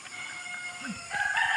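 A rooster crows nearby, with clucking chickens around it in an outdoor farmyard.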